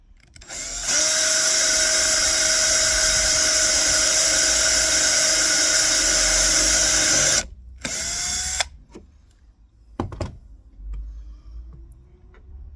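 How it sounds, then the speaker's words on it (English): A small power drill whines loudly and steadily for several seconds drilling a small pilot hole in a Freelander 2 headlight mount, cuts out, gives a short second burst, then stops, leaving faint clatter. "get a small drill, and just drill a hole"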